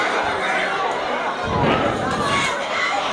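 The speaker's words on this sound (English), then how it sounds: "The crowd is baying them." Large crowd at a hurling final roaring and jeering in a sustained, dense wall of noise, with scattered shouts rising above the continuous din.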